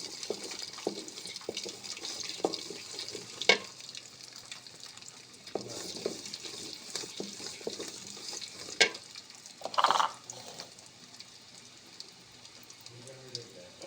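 Garlic cloves fry in foaming mustard oil for a pickle, a steady close sizzle and crackle with occasional utensil clinks and brief stirring scrapes.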